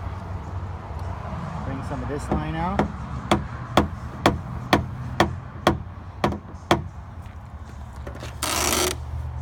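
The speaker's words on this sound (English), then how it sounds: "And let's come back down with the tapper." Paintless dent repair tapper knocking down a dent under a brace on a car panel, a steady series of about eight sharp metallic taps at roughly half-second intervals, with someone talking briefly and background noise.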